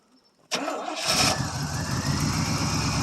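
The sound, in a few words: 1979 Oldsmobile Ninety-Eight engine cold start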